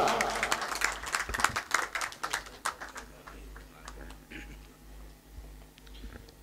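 An audience at a mushaira, an Urdu poetry gathering, bursts into brisk, dense clapping that is loudest at first and then thins out and fades over several seconds.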